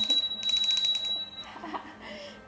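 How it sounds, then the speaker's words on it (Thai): A small hand bell rings repeatedly in quick, bright shakes that fade, then tinkles more softly, with someone speaking faintly beneath it at an online crystal energy session. "มีกระดิ่งด้วยนะคะ"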